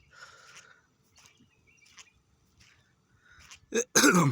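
A few faint breathy sounds, then two sharp, loud coughs close by at the end, brought on by thick morning fog in Abdali, Kuwait.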